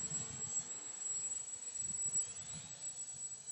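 A small drone flying and turning, a steady, fairly faint high-pitched motor whine with a thin constant tone over a low rumble, swelling slightly as it banks.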